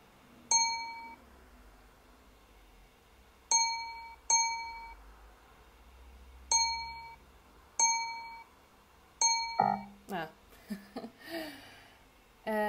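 A bright electronic ding chimes six times at irregular intervals, each ringing briefly and decaying, followed by a burst of other game sound effects.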